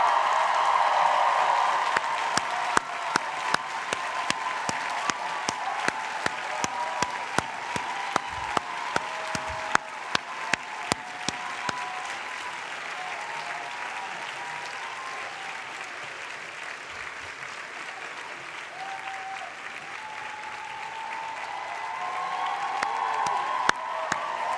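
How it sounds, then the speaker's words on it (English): Graduates at a 2017 commencement ceremony applaud the audience, sustained dense clapping from a large crowd that carries on steadily before slowly thinning. "give a round of applause to those who helped them on their journey"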